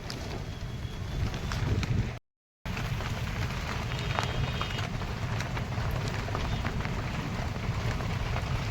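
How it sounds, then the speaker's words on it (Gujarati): Heavy monsoon rain pours down steadily in a dense, continuous hiss that stays close and loud, with a short dropout partway and no voices. "વરસાદ ગાજી રહ્યો હે"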